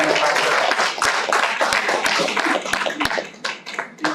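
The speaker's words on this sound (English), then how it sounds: "let's give a big round of applause to the two teams" Audience applause for debate teams at an HR debate quarter final, a dense burst of many hands clapping loudly and continuously, with a few sharp louder claps standing out.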